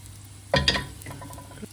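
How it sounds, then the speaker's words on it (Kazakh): Manti dumplings frying in oil: a quick clatter of stirring, then a soft, steady sizzle close by. "Міне соңғы партиясын қуырып жатырмын."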